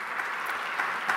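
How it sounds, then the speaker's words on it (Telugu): Congregation clapping in a church service, a steady dense patter of many hands sustained throughout with slight swells, fairly faint and heard alone. "చప్పట్లు కూడా దేవుని స్తుతి"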